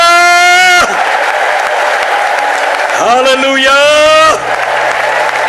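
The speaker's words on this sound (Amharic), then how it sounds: "እንደገና እስቲ እልልታ፣ ጭብጨባ ለእግዚአብሔር ክብር።" A church congregation breaks into loud, wavering ululation over steady applause in a packed worship hall, the trilling cries rising in two long bursts while a voice calls out briefly over the crowd.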